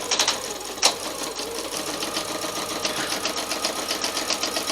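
Sewing machine stitching cotton fabric, a steady close rapid whirring rattle running without pause, with no talk.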